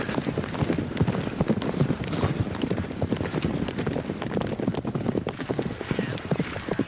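Cavalry horses' hooves clip-clop rapidly and densely on the ground in West London in the early morning, many overlapping hoofbeats close and loud, with no talking.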